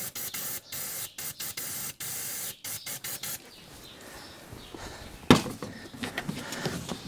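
Brake cleaner hisses from an aerosol can in a series of short, loud bursts into the intake of a Ford Escort diesel estate, followed by quieter rustling and clanks.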